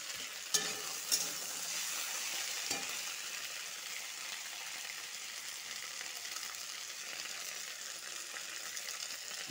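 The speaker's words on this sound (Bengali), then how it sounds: "আলুর সাথে পুঁইর সাথে ডুগার সাথে একটু ভেজে নিয়েছি।" Potatoes, malabar spinach with its stems and chopped tomato fry together, a soft, continuous sizzle with a couple of light utensil clicks early on, steady and somewhat distant-sounding, without speech.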